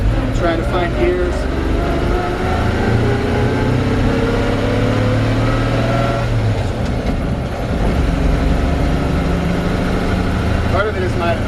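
Engine of a 1946 Chevrolet 3600 three-quarter-ton truck while driving, a steady mid-pitched drone that rises and falls as gears are shifted, heard under continuous talking.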